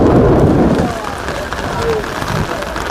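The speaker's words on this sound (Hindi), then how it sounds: "जोरदार बारिश हो रही है" Heavy rain pours down steadily on the riverside ghats at Haridwar, a dense hiss with a louder burst at the start, continuing without pause.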